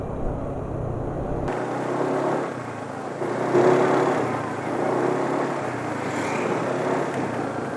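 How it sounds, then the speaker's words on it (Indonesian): A motorcycle engine running on Eni 20W50 Super JASO MA2 oil roars loudly and steadily, sounding rough and slightly harsher as it grows louder midway through, with no talking. "tapi ini suara mesin jadi makin keras ya sekarang."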